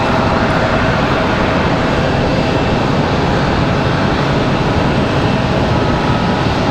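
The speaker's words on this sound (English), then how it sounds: "It is our FedEx 767 here from Memphis, Tennessee." A FedEx Boeing 767 cargo jet arriving from Memphis, Tennessee, gives a steady, broad jet roar that holds loud and unbroken throughout, with no voices over it.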